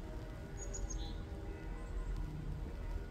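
Birds chirp outdoors on a freezing winter day in Montreal near a nest, a few short, high, faint calls over a low wind-like background rumble.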